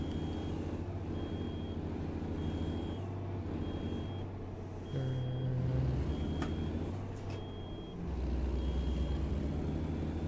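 Semi truck idling while its air tanks recharge, a low engine rumble under a steady, evenly spaced electronic warning beep that repeats about every second.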